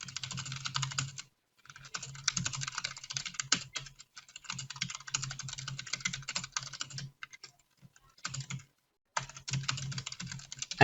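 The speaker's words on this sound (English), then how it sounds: "I need to type in something for the team because I can't see the screen." Someone types on a computer keyboard close to the microphone. The keys clatter in fast bursts with a few short pauses.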